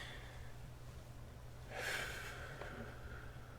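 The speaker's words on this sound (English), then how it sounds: "Breathe in deep" A single deep inhale through the nose, drawn as part of a breathing exercise for calming fear, rises near the middle of an otherwise quiet stretch with a low steady hum underneath.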